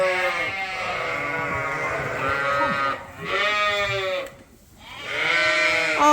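Sheep on a working farm bleat repeatedly in long, wavering calls, several overlapping voices close by, with brief lulls between bursts and no talking.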